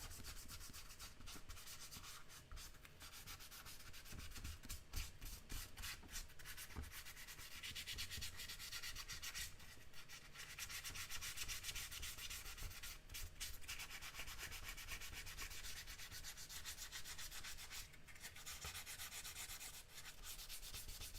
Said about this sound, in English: It really needs a light sanding because I put a lot of primer on it.